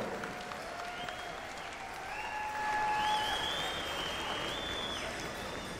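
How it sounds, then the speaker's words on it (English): Crowd applause at the 2018 Gathering of Nations pow wow, a broad steady wash of clapping from a large audience, swelling slightly in the middle with faint whistles or cheers above it. "One more time, a round of applause, my friends right here."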